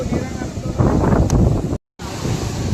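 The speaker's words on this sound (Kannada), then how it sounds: "ಬಂತು ದೊಡ್ಡ ಅಲೆ" Large ocean waves crash and wash onto a beach, a loud rushing surge with heavy wind buffeting the microphone, broken by a brief dropout near the end before the roar resumes.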